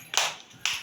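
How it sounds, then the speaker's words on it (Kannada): Two sharp hand claps ring out close by, about half a second apart, with no talking. "ಕ್ಲಾಪ್ಸ್ ಹಾಕ್ರವ ನೀವು ಇಬ್ರು. ಚಪ್ಪಾಳೆ ತಟ್ಟಿ."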